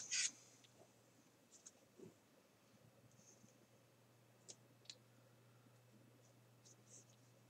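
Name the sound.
3D pen clicking while heating up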